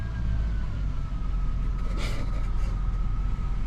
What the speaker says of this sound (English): it's idling real smooth